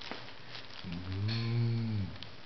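A single drawn-out cow moo, low and sustained for over a second, rises and fades against a quiet room. A voice reading aloud to young children may be imitating the animal, with no other sound around it.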